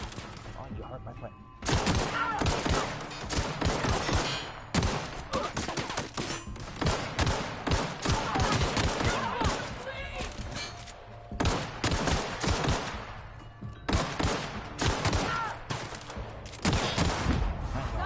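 Sustained bursts of gunfire from The Outer Worlds video game, rapid shots and volleys running nearly continuously, loud and close, with brief pauses between flurries.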